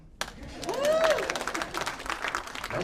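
An audience claps and whoops at a talk on Afro-surrealism and anti-capitalism, a sudden burst of nearby applause with one voice rising over it, then scattered clapping that goes on to the end.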